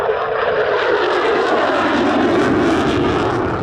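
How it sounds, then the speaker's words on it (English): Lockheed Martin F-35 fighter jet holding a sustained minimum-radius turn at an airshow, its engine a loud, steady, continuous roar with no breaks, staying close and alone without voices. "The F-35 is a 9G capable fighter, as most are nowadays, but in a sustained turn like this"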